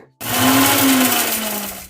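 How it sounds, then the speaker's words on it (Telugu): A mixer grinder whirs loudly after a brief quiet start, coarsely grinding black pepper, cardamom and cloves in a steady, high-pitched motor whine that holds for the rest of the clip. "ఇలా అన్నీ వేసుకున్న తర్వాత కచ్చాపచ్చాగా వీటిని అన్నిటిని మిక్సీ పట్టుకోవాలి"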